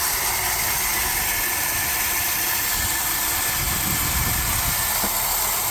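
Electric backpack fertilizer spreader running with its opening set fully wide to dispense urea, a steady loud motor hum and hiss that holds constant throughout with no voices.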